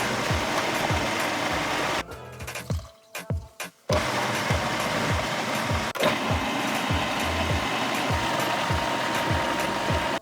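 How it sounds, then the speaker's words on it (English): A food processor whirs loudly as it blends chilies for hot sauce, its motor droning continuously with a pulsing churn, cutting off briefly for about two seconds before starting up again. "Put some chilies in a food processor and start blending, gradually adding liquid."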